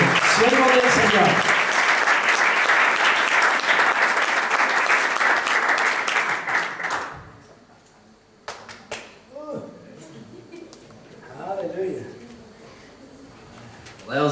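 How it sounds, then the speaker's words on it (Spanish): Loud, dense audience applause at a bilingual Spanish-English church service greeting a guest preacher, sustained for about seven seconds before cutting off, then quieter sounds and faint voices. "queremos recibirle con un aplauso muy fuerte a Anthony Miracle, siervo del Señor."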